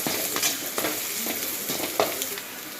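Turmeric being stirred into an egg rice mixture frying in a pan: a loud, close sizzle with repeated spatula scrapes and knocks at an even pace.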